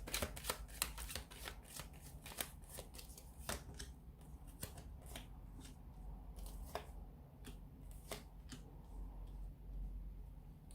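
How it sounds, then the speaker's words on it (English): A deck of tarot cards is shuffled by hand, giving a continuous run of quick, close papery riffles and snaps with no talking. "So we'll give the cards a shuffle here"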